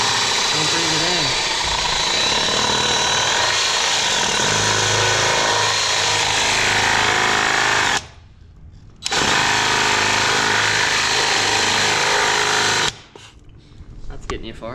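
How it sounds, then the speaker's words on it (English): A power tool grinds loudly and steadily through fiberglass body panels on an auction Corvette, running nearly continuously with two brief pauses where it stops. "This is probably not the most ideal way to cut fiberglass, but it's what I had."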